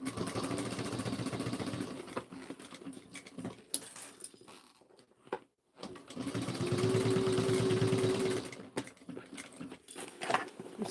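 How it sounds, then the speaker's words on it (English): A sewing machine back-stitches over the side seams of a messenger bag, its rapid needle chatter running steady and close with one short pause midway, then resuming. "I always like to back stitch over any of the side seams."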